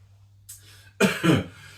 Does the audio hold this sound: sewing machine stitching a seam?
no